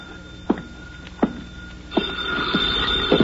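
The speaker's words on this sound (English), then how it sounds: "the phone started ringing." A telephone rings in a radio drama office scene, giving several evenly spaced ring bursts with a steady electronic tone running underneath. The rings sit close and clear, with no talking.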